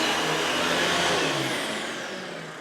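An old Royal 7300 Protege upright vacuum cleaner runs with a loud, steady motor whine and airy roar, close up, easing slightly in volume toward the end.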